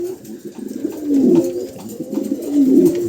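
A pair of Sokhing pigeons coo close by in low, rolling phrases, the calls swelling twice and repeating steadily with no talk.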